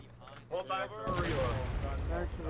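Gunfire and artillery in a Civil War video game: a few sharp shots early on, then a dense, loud stretch of rolling gunfire and booming blasts that continues to the end, with a voice talking over it.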